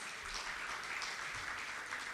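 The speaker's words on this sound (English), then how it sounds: "Can we have the claps louder?" Audience applause at a book release event, a steady dense wash of many hands clapping throughout, close and even, with no talk over it.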